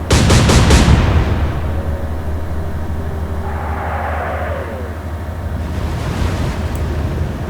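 Naval guns fire in the Atlantic Fleet game with a loud opening salvo of several rapid blasts, then a long rumbling roar of sea and distant noise, rising again near the end, with no voices.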